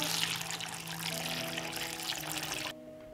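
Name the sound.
pouring water into a pot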